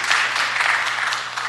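Applause rises at a Los Angeles planning and land use committee meeting: a brief, even wash of many hands clapping at moderate loudness, with no distinct single claps.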